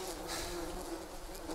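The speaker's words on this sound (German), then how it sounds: "Das sind Bienen." Bees buzz in Green Hell, a continuous swarming drone close by, steady and fairly faint over a soft ambient background.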